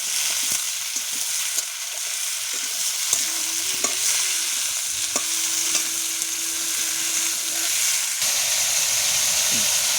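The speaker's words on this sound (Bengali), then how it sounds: "ঝিঙেগুলো ভাজা হচ্ছে" Sliced ridge gourd sizzles in hot oil in a pan, a continuous close hiss with occasional stirring clinks and a faint tonal hum in the background.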